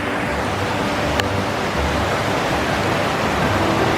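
Creek water flowing steadily at the confluence of Flat Rock Creek and Stoney Creek with their tributaries, a continuous broad rushing wash of moving water close by and fairly loud, with no voices.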